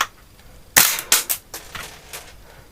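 An airsoft gun powered by 134A gas fires a single sharp, loud shot up close, followed by a few quicker metallic clicks and rattles that fade out.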